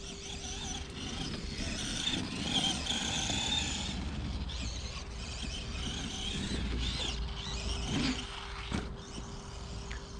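An Arrma Gorgon RC truck fitted with a brushless motor whines and rattles as it drives over rough ground, with a faint creak and clatter as it lands. The sound is moderately distant and continuous over outdoor background.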